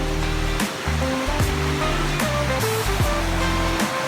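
Waterfall in the Philippines, a loud continuous rushing roar of falling water, close and steady with no voices.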